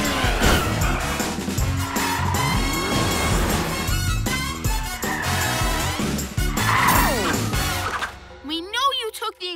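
Cartoon cat car from a PJ Masks episode driving fast and skidding, loud engine and tire squeal over dense music with scattered voices, ending in a short electronic whoosh effect.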